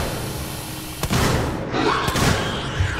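Gunfire in the survival horror game Alien Isolation, two loud booming shots about a second apart over a dense, noisy game soundscape, with no talk.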